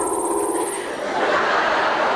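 An electronic synthesizer effect from 1984 imitates very large crickets, giving a dense, wavering, lower-pitched buzzing chirr that holds steady and grows slightly fuller toward the end, heard alone without talk.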